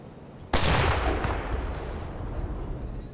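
Enemy gunfire in a video game: one sudden loud blast that rolls into a long, rumbling decay, heard alone and close.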